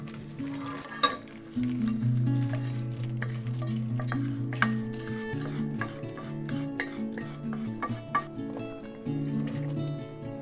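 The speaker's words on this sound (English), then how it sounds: "Once the mixture thickens, add the prepared tempering and mix well" A spoon works through a thick tamarind mixture in a deep vessel as tempering is folded in, giving steady scraping and stirring with occasional clinks against the pot, close and moderately loud throughout.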